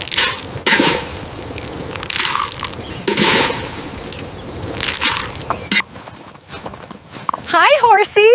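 A horse's hooves clip-clop at feeding time, giving repeated close hoof clops over a busy background, while people talk and a high voice rises near the end.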